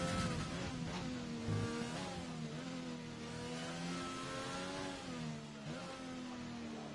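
An F1 race car engine in a French Grand Prix esports race game, heard from on board: a loud, continuous high-pitched whine rising and falling with gear changes and throttle over the full stretch.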